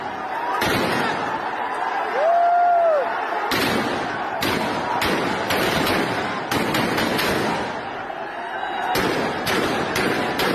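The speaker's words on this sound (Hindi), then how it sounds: "फायरिंग की आवाज भी सुनाई दे रही है।" Repeated sharp gunshot cracks and bangs ring out in irregular bursts over a constant crowd roar, with shouting voices throughout, during a protest in Sri Lanka.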